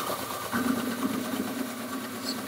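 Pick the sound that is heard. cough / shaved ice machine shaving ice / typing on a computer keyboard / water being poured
shaved ice machine shaving ice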